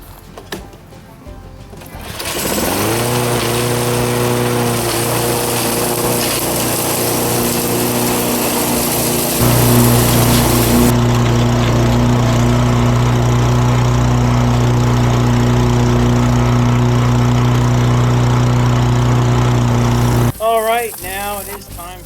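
A Lawn-Boy lawn mower engine, just fitted with a new carburetor and tuned up, starts and runs at a steady, loud idle for most of the clip. Its pitch rises partway through before the engine cuts off near the end.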